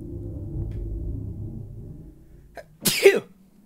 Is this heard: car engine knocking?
no